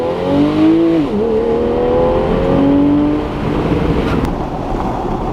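A 2015 Porsche 911 Targa 4 GTS engine revs up under hard acceleration, a loud close tone climbing and dipping through gear changes before easing off into a quieter rumble, with no talk.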